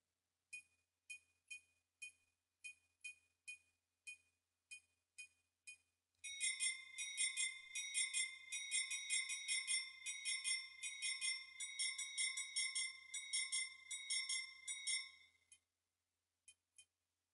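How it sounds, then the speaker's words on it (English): A triangle sample from music-making software rings out in a row of eight short, evenly spaced metallic strikes, then a long sustained shimmering run of rapid triangle tones, ending with two brief hits. "We don't need like that huge triangle sound."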